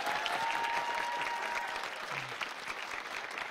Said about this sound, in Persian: تشویق کنید.